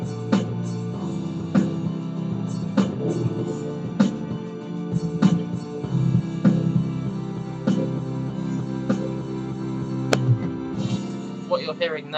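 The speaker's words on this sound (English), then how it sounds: "what you're hearing now is over-compression" Over-compressed alternative rock mix playing back in FL Studio, with steady drum hits under a dense, flattened wall of guitars and bass, loud and continuous, a voice briefly appearing near the end.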